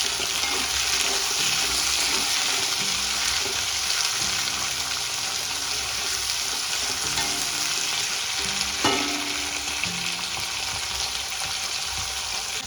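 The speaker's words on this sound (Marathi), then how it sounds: "टोमॅटो पण आपण अगदी व्यवस्थित परतून घ्यायचा आहे" Tomatoes cut lengthwise sauté in a pan with onions for tomato rice, giving a steady, loud sizzle with occasional scraping stirs throughout and a sharper clatter near the end.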